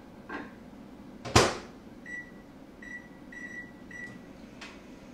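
A microwave oven heats a bacon honey mustard dip with a steady low hum. A sharp clatter comes early on, then a run of short, even beeps rings out over the drone.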